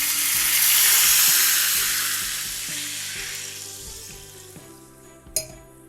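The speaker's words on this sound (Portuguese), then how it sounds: "E vou deglaçar com vinho branco." White wine hits a hot turkey roasting pan on a stovetop and sizzles loudly in a close, hissing burst that slowly fades. Steady scraping or stirring clinks under it, and a sharp tap comes near the end.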